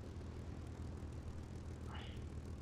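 A fixed-wing aircraft on approach to a runway in the War Thunder video game gives a steady, loud engine and propeller drone that holds unchanged throughout, with no voices.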